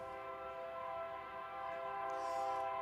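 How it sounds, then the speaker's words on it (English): A train passes near a high school baseball game, its horn sounding as a steady, sustained multi-tone blare at moderate distance with a faint rumble beneath, no talk. "As the choo-choo train's coming through."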